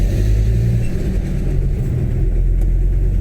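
A BMW's loud aftermarket exhaust holds a deep, steady engine rumble close by, swelling slightly without any sharp rev peaks, and no voices are heard.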